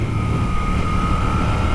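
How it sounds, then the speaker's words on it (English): A 2018 Moto Guzzi V7 Special Edition motorcycle engine idles outdoors, a loud, steady low rumble with no speech. "Leave the engine bubbling."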